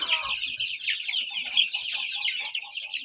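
Two-week-old chicks peep in a dense, high chorus throughout, while hens give soft, low clucks at intervals underneath.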